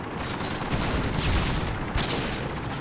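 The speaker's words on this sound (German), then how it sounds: "Jetzt mache ich so eine richtig krassen Quickscopes." Sniper rifle quickscope shots ring out in Call of Duty Modern Warfare 2 hardcore team deathmatch, two sharp cracks over a constant loud wash of game noise.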